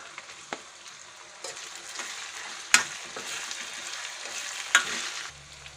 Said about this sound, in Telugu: అల్లం వెల్లిపాయ పేస్ట్ వేగిన తర్వాత మునక్కాడ ముక్కలు కూడా వేసి ఒక 2 నిమిషాలు వేయించుకోవాలి.